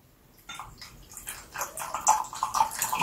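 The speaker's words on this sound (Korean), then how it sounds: "아까 우리가 티타늄 디옥사이드 넣었었던 유상층에 이 수상층을 부어주도록 할게요." Warm water phase poured into the titanium dioxide oil phase for homemade mineral sunscreen, a close trickling, gurgling pour that starts after a brief quiet and grows steadily with splashy drips, alone without talk.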